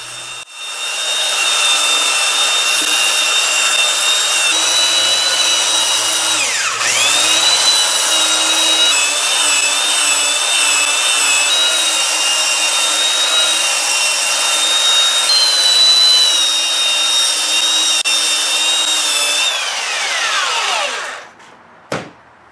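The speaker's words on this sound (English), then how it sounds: "so I have to use our belt sander to clean off the burn marks and level the boards so that they are flat" Belt sander levels birdseye maple and walnut boards for an electric guitar body. A loud, steady, high motor whine holds for about twenty seconds, dips briefly once, then winds down with a final knock.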